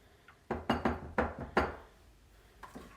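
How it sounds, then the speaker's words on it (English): Pickled beets with their juices and a spice ball being stirred in a bowl, several close knocks and clinks of a utensil against the bowl in a quick cluster, then two fainter taps after a pause. "Give it a little stir."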